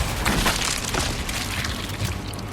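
A loud, dense burst of noise from an explosion in the Resident Evil 4 (2023) video game fills the short stretch, with rumbling and crackling debris and no voices over it.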